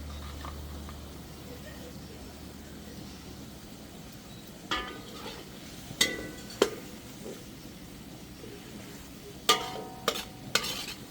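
Pork bones and seasoning go into a pan of pinakbet and get stirred, with a low, steady sizzle of frying underneath and a few scattered clinks and scrapes of a utensil against the pan.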